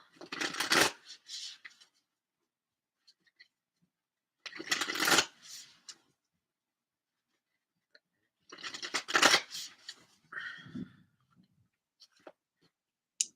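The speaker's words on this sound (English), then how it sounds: "So I get a card from the Mystical Shaman Oracle." Oracle cards are shuffled and drawn in three separate bursts of brisk, close riffling and flicking, with near silence and a few soft taps in between.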